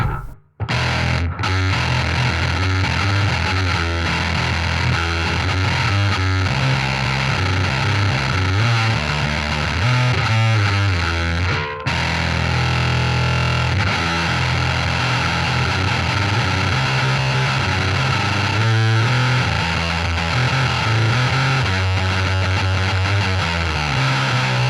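Bass guitar run through a Boss HM-2 distortion pedal produces a thick, saturated buzzing roar, continuous and loud for the whole stretch, with low notes smeared into dense fuzz and only a couple of brief breaks near the start and middle.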